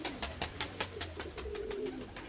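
Pigeons, round-bodied fancy breed birds in a loft, coo softly and repeatedly in a steady low rumble over a scatter of sharp rhythmic clicks, close by with no talking.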